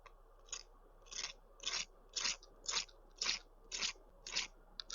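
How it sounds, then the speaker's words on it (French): The crisp crust of a freshly baked Québec tourtière is tapped or cut eight times in an even rhythm, each a sharp close crunchy crackle separated by brief quiet. "C'est toujours bien croustillant ça."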